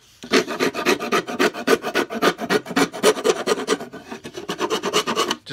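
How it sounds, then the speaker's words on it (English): A round file rasps back and forth across the inner edge of a wooden cigar box guitar sound hole, beveling it in steady, rapid strokes that stay close and loud with a brief pause near the end. "I get one of these round files"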